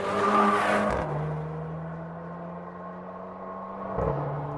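A Mercedes-AMG GLC 43 SUV with a 416-horsepower engine drives off, its engine note rising through a gear, then holding a steady drone before another shift near the end, heard from inside or close by.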